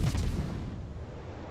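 Heavy naval gun salvo in World of Warships, fired at the British battleship Conqueror, with a deep booming blast at the start decaying into a rumbling tail, loud and alone.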